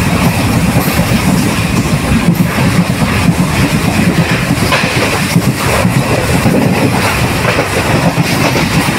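ICF passenger coaches of the Satluz Express run on rails between New Morinda and Mohali, a loud, steady rumbling roar with rhythmic clickety-clack of wheels over rail joints, heard from onboard with no talking.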